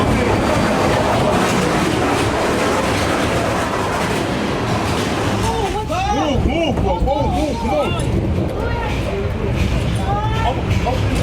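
Passenger train at Newport station, New Jersey: continuous loud rumble of rolling wheels with rhythmic clickety-clack over the rail joints, steady and close throughout.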